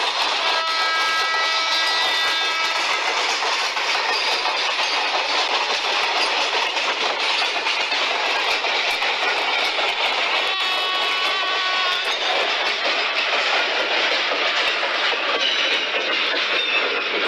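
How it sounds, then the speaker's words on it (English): An Indian passenger train runs steadily on rails on a morning journey, with continuous close rumble, clickety-clack of wheels and faint squealing tones throughout, no talking. "Why is our train getting very slow now?"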